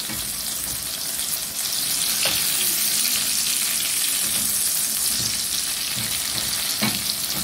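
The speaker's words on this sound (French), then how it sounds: "Je fais une petite sauce tomate pour pouvoir mélanger les vermicelles avec." Tomato sauce sizzles steadily in a frying pan, a continuous close crackle and hiss with faint stirring taps, no voices, prepared for yellow vermicelli fritters.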